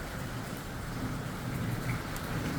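Steady rain pours down during a violent evening thunderstorm in the Drôme, a dense, even hiss close by with faint low rumbling underneath and nobody speaking.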